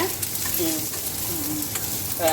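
Onion, garlic and chili frying in a pan for a vallarai keerai (brahmi leaf) stir-fry, giving a continuous bright sizzle with light stirring scrapes throughout.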